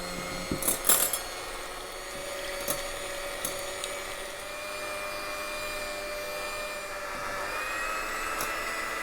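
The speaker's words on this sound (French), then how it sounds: "on va venir monter nos blancs d'œufs en neige avec le sucre que l'on va insérer en 3 fois" An electric mixer whirs steadily while whipping egg whites with sugar, a fairly quiet continuous hum with a few clinks and knocks against the bowl early on.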